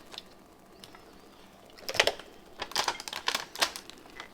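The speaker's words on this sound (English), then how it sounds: "So I'm going to tape this as well." Tape pulled and pressed around a full-wrap sublimation mug, heard as a quiet lead-in followed by a cluster of sharp crackling, tearing bursts in the last half.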